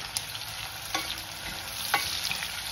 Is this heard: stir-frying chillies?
yes